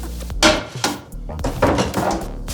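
A knife chops through a red onion on a board with quick, close, uneven knocks, a few sharp clatters and short pauses between strokes.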